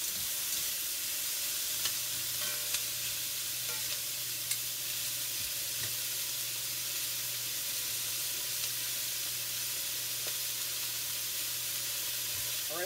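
Onions and a pork roast for milk-braised pork sizzle steadily in a pan, a soft continuous hiss with occasional faint crackles and a low hum underneath, with no talking.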